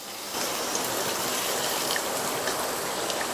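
Hot tempering poured into carrot curd pachadi gives a steady, close crackling sizzle with faint fine pops, holding even from the start to the end with no talk over it.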